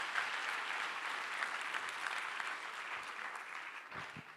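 Steady, moderately distant applause from an auditorium audience at a design school talk in Barcelona holds evenly for several seconds, with a few low bumps near the end.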